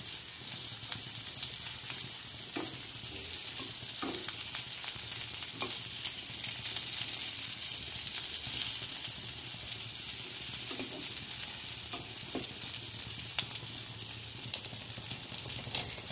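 Stuffed bitter gourd sautés in a pan with a constant close sizzle and frying crackle, broken by occasional light clicks and scrapes of stirring, and no one talking.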